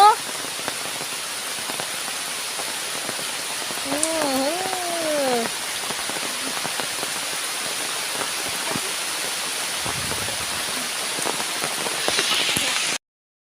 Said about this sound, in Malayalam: നമ്മുടെ നാട്ടിൽ 5 മിനിറ്റ് ഇടവിട്ട് മഴ പെയ്തുകൊണ്ടിരിക്കുക